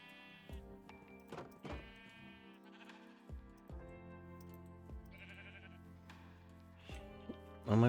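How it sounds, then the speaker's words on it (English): Sheep in the Minecraft video game bleating several times in short wavering calls, spaced irregularly and fairly clear at a moderate level, with no talking over them. "Oh my god, we have a light grey sheep."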